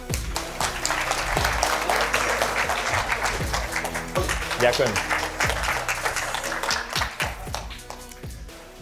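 A seminar audience claps warmly in a dense, steady stream of applause that holds up close and loud, with a voice speaking briefly over the clapping near the end.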